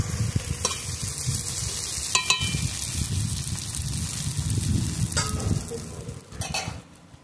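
Hot water is poured into a pan of fried poppy seed, cumin and green chilli masala with rohu fish pieces, making a steady, close hiss and sizzle that runs for several seconds before trailing off.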